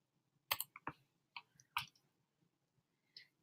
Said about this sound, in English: this is me clicking